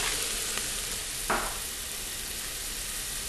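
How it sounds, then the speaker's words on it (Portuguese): Onion frying in a pan gives a steady, faint sizzle throughout, with a couple of brief scrape or stir sounds near the start and middle. "Tá bem fritinha a cebola"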